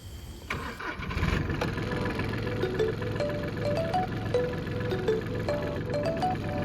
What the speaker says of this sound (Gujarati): ટ્રેક્ટરને સાફ બાફ કરીને આમાં ટ્રેક્ટરને સેલ મારશું। સવારમાં પહેલું સેલ વાગશે।